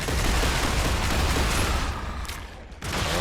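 Dense rapid gunfire from a fight against enemies in the video game StarRupture, loud and continuous, easing briefly before the shooting picks up again, with no speech over it.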